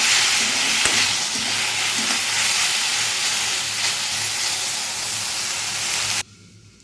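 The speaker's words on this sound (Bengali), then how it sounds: "আর এখানে ভেন্ডি ভাজা হচ্ছে।" Okra sizzles and crackles steadily as it fries in a home kitchen pan, a dense continuous hiss at close range that cuts off abruptly near the end.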